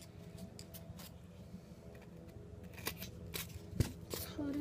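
Scissors snipping through material for a Fallout 3/New Vegas slave collar prop, a few quiet, close snips with soft rustling, faint room noise and no talk.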